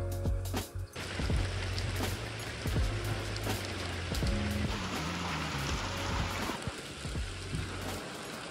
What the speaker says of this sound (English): Just what we needed. We needed the rain.